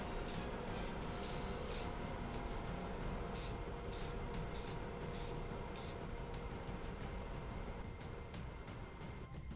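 Spray can coating 3D printed parts in matte black paint, a continuous close hiss of spraying interrupted by brief bursts, steady throughout with no talk.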